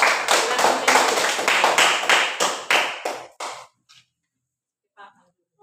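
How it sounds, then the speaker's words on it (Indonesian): Children in an elementary school classroom clap together for a group, a brisk run of rhythmic claps that slows and thins out to a few last taps before falling silent. "tepuk tangan untuk kelompok 3"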